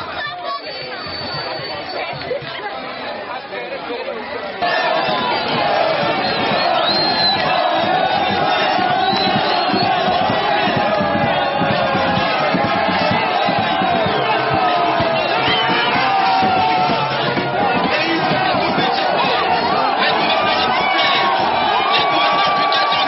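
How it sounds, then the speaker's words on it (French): A packed crowd fills Stade Diur, a dense, continuous roar of cheering and shouting that swells louder after the first few seconds and stays at full volume to the end. "le stade Diur était lui déjà archi-comble avec une autre innombrable foule qui"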